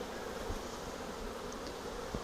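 Honeybees swarm and buzz around an open hive frame of drone brood, a dense, steady droning hum that stays close and even throughout, with no voices.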